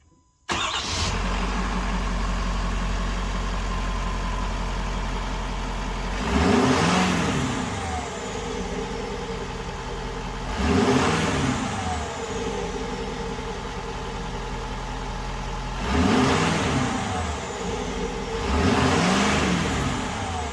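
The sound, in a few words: pickup truck diesel engine idling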